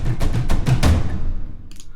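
Epic cinematic drum sample from a percussion library called Plastics: a short run of four deep booming hits with roomy decaying tails, loud and close, no voices.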